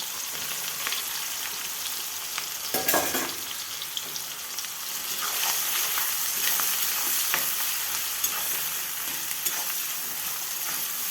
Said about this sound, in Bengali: কড়াইয়ে তেল দিয়ে দিয়েছি। আর এই যে পেঁয়াজগুলোও দিয়ে দিলাম এক এক করে।